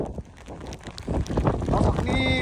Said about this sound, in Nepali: हुरी बतासिसक्यो त पुरै ओहो